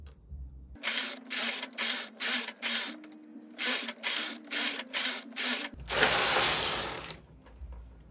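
A home knitting machine working the hem of a sweater: the carriage sweeps back and forth in a quick series of rasping, ratcheting passes, a pause, more passes, then a longer whooshing stroke, close and clear with no voices.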